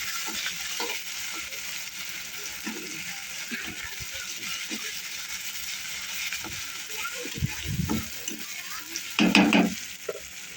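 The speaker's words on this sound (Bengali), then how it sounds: "তারপর দিলাম জিরের গুঁড়ো তারপরে ভালো করে নেড়ে নিলাম" Spices with cumin powder frying over a low gas flame in a pan, a continuous bright sizzle with occasional scraping stir strokes and a louder clatter near the end, close by, and some faint voice-like murmuring underneath.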